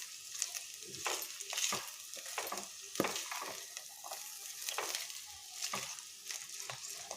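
Bitter gourd pieces sizzle in hot oil over a medium flame while being stirred, with steady close frying crackle broken by repeated scraping strokes of a spoon against the pan.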